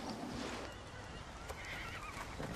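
A horse whinnies at moderate distance in a riding stable setting, the call rising and falling over roughly two seconds amid background noise, with a brief louder burst near the end.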